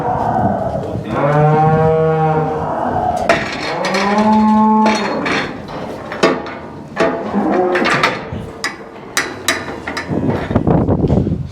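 Cattle on a farm moo repeatedly, loud and close, including one cow that jumped the barrier, with several long lowing calls followed by scattered clanks and knocks from gates or pens.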